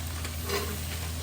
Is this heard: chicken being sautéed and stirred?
yes